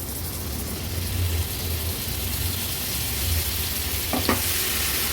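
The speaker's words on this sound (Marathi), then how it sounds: "तेलावर आता ही थोडीशी परतून घ्यायची आहे" Fish stuffing fries in a pan with a tablespoon of oil and turmeric for Agri-Koli style stuffed pomfret, giving a constant dense close sizzle with a couple of quick utensil clicks near the end.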